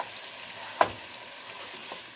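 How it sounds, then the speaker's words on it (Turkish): A spoon stirs tomato paste in a pot while bean stew is being made, giving a soft, steady scraping and faint sizzle with one sharper knock against the pot, quiet and with no voices. "Salçaları da şöyle güzelce karıştıracağım."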